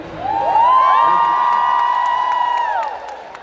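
A concert crowd cheers and whoops for a reggae superstar, with a loud sustained roar of voices rising quickly, holding for a few seconds, then fading.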